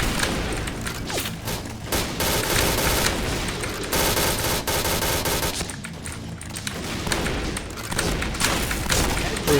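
Shotgun fire in the video game Point Blank, loud bursts of repeated shots and booms filling the whole stretch with brief quieter gaps, no talking over it.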